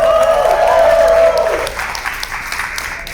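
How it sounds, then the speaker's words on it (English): An audience at a horror short film contest breaks into loud, close applause with a few cheers, the clapping strong at first and tapering off over a few seconds. "So one more time, clap it up for Fear Picks."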